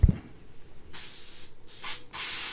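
An aerosol spray can hisses in bursts, a long spray followed by two shorter ones, loud and close, with no talking.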